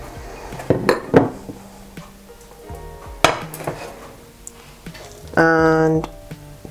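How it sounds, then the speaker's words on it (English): A pan on medium-high heat in a home kitchen as olive oil goes in, with clinks and knocks of pans and utensils, a loud rattling clatter near the end, and a faint sizzle underneath. "I have my pan on medium-high heat here, and I'm gonna add in just a little olive oil."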